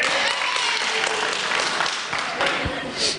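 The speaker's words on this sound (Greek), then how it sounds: "Άμα χειροκροτάτε ακόμα, είσαστε καλοί." A studio audience at a night-time talk show applauds, a dense wash of many hands clapping at a steady level, with a voice rising briefly near the end.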